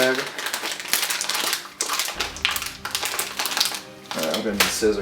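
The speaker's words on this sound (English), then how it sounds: "Open this bag." A bag of brewing grain is opened by hand, with loud, close crinkling and crumpling of the packaging in irregular bursts throughout.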